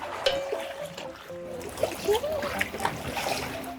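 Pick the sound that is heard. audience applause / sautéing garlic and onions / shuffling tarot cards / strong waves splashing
strong waves splashing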